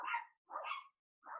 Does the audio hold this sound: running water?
no